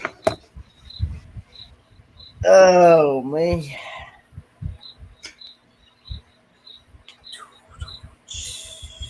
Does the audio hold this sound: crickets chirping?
yes